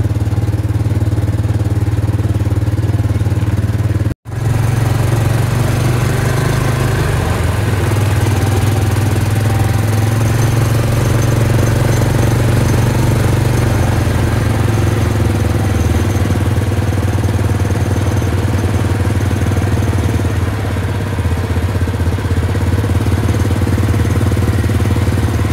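Case 2470 tractor engine working hard while pulling a subsoiler through a field in a faster gear, a loud continuous diesel drone with a deep low throb, close and steady after a brief cut early on.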